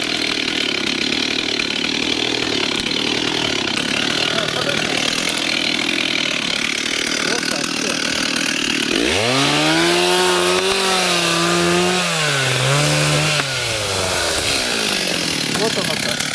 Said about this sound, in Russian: Это опасно, что у него пилу зажимаешь.